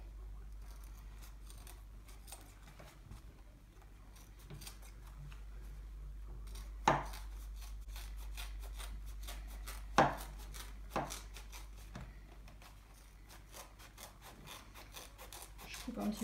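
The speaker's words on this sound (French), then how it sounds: "Je coupe un petit peu le tour pour éviter d'avoir un petit peu trop d'épaisseur." Scissors trim around the edge of a sewn fabric evening clutch bag, a few quiet snips and rustles with sharper cuts standing out against a faint steady hum.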